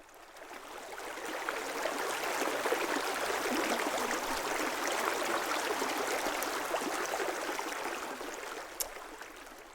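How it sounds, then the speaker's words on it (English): An Omnisphere 2 synth patch of strong, splashing, bubbling water plays as a steady, dense hiss that swells in and holds for several seconds, with fine bubbling detail and no voices. "And we got strong, splashing, bubbling."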